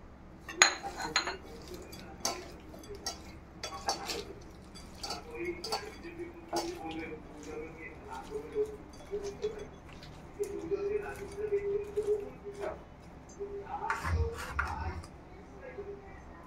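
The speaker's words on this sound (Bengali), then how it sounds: "চিংড়িটা মাখিয়ে ম্যারিনেট করব সব মশলা দিয়ে।" Prawns being mixed with spices to marinate, with ground coconut, salt, turmeric, coconut water, mustard and green chili paste, give scattered light clinks and taps of a utensil against a bowl, close by, under a soft voice.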